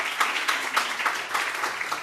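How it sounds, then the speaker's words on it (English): A live audience claps steadily for a spoken-word and art performer at a Muslim American activist event, a dense, even patter of many hands with no voices over it. "she deserves a round of applause"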